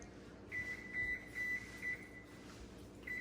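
A kitchen timer set to 25 minutes while a Liberian pepper toborgee dish cooks gives a series of short electronic beeps, about five evenly spaced chirps over a steady low kitchen hum.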